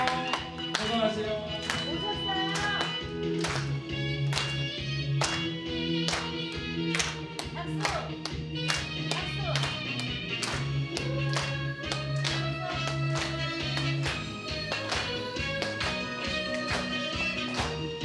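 Audience clapping for a singer on a Korean pop music broadcast, a steady rhythmic patter of hands under the loud singing and band music.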